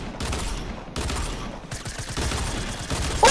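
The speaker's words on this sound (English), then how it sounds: "Shoot him, Julian!" Rapid gunfire in the video game Fortnite, dense bursts of automatic shots in quick succession separated by brief gaps, loud and close throughout.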